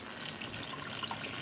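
A steady stream of water runs through milking equipment tubing during rinsing, a continuous close splashing flow with faint drips.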